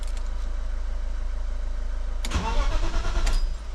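A BMW E36 with its fuel relay removed turns over on the starter, a steady idling hum giving way to a loud, rhythmic cranking chug for over a second without catching, then settling back.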